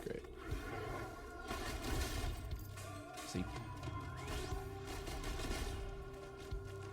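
Explosions and gunfire in the video game Risk of Rain, a dense, loud, continuous barrage of blasts and game sound effects with a brief spoken word over it.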